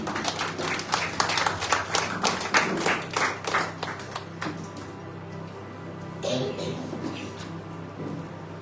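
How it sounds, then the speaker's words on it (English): A congregation at a Sunday evening church retreat in Margao, Goa claps for the worship team, a loud burst of rhythmic hand claps that thins out after a few seconds into quieter room sound with a brief murmur. "Can you clap your hands for the worship team?"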